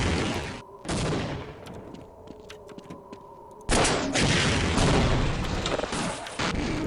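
Half-Life weapons firing: loud, dense bursts of gunfire and booms at close range, a short burst at the start, then a quieter gap with faint clicks and hum, then a long heavy barrage.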